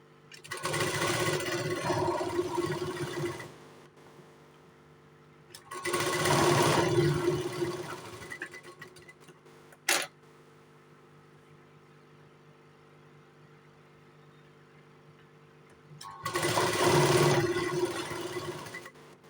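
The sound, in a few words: sewing machine stitching blouse tucks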